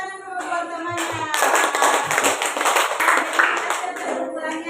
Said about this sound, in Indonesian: baru tepuk tangan dulu buat temannya